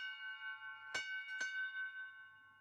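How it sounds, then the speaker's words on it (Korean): A bell on the International Space Station rings twice to mark a Crew Dragon docking, sharp struck tones ringing out over a steady tonal hum with no voices. "ISS 내부에서도 드래곤의 도킹을 알리는 종소리가 울려 퍼지고"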